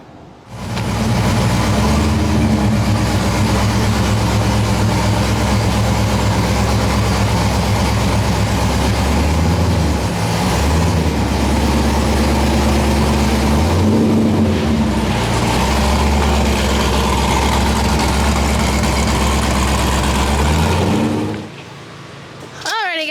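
A Chevrolet Camaro's engine runs steadily and close by for about twenty seconds as the car drives onto a four-post lift, with low rumbling tones shifting slightly mid-way before cutting off near the end.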